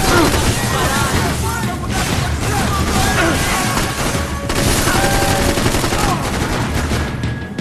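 Dense, continuous gunfire from the video game Max Payne 3, a loud, busy fusillade of overlapping shots and impacts that fills the whole stretch with barely a pause.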